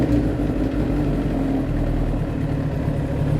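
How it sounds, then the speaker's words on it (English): A Japanese motorcycle engine, cold with the choke off, idles steadily on its stand in neutral, a close, even low rumble running throughout without voices. "I already got the choke off and it's idling reasonably"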